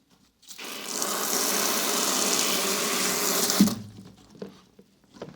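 A forceful, steady hiss of water sprays hard from a burst plumbing supply line for about three seconds, then cuts off abruptly, followed by a few small clanks.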